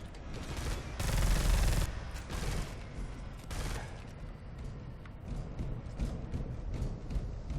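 Rapid heavy assault cannon fire in Space Hulk: Deathwing roars in sustained bursts, loudest early on, then continuing as a rumbling, clattering barrage.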